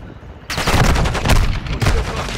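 Loud automatic gunfire in Call of Duty Modern Warfare II, two close bursts of rapid shots separated by a brief pause, with a quieter lead-in before the first burst.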